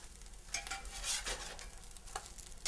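Raisin cinnamon French toast slices fry quietly in a pan, a faint continuous sizzle broken by soft scraping and stirring sounds, close up, with no talking.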